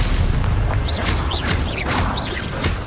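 Expulso spell blasts in the Hogwarts Legacy video game: a loud, dense run of booming bursts with crackling magical whooshes recurring every half second or so over a constant low rumble of battle.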